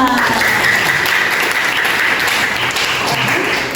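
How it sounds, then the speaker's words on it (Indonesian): Classroom applause breaking out, a loud, dense burst of clapping that holds steady for nearly four seconds with faint voices mixed underneath. "Tepuk tangan."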